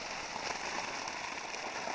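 Water gushes hard from the two-inch pipe of a solar-powered pump into a rice paddy. It is a steady, dense hiss and splash, close and continuous, with no talk.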